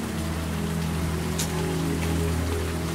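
Heavy rain pours down steadily, a dense, continuous wash of drops hitting surfaces close by, loud and unbroken for the whole stretch with a low background hum beneath it.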